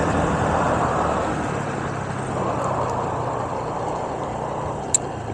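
A stock Honda Navi motorbike climbs a steep mountain road at about half throttle, giving a steady loud engine drone mixed with broad wind and road rush that never lets up.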